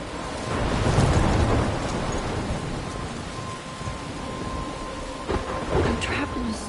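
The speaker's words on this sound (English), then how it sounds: "I'm trapped in a storm?" Thunderstorm ambience in the video game Life is Strange: continuous heavy rain and rolling thunder swell and fade, with a few sharper crackles near the end, steady and fairly loud throughout.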